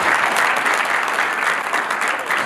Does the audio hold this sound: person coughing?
no